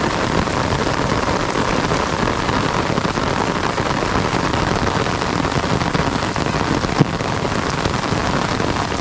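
Steady rain pours down over paddy fields during rice planting in the Konkan countryside, a dense, even hiss throughout with no voices.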